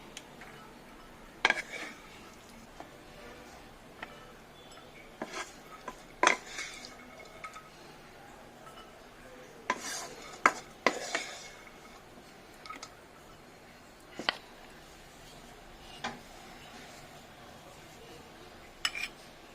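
Cooked chana dal being spooned from a pan into a bowl, heard as scattered metallic clinks and scrapes of utensil on cookware spread across a quiet room, no voices.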